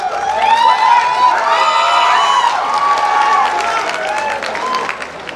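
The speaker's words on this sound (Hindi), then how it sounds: "एक बार जोरदार ताली बजा देंगे गोरखपुर" Loud, dense applause and cheering from a crowd at a khadi fashion show on the Gorakhpur Mahotsav 2021 stage, with voices and shouts rising above the clapping throughout.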